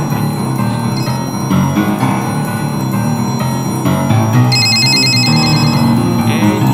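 Telephone ringing inside a video game, a loud repeating electronic ring layered over game music and effects, with pulsing bursts of the tone throughout.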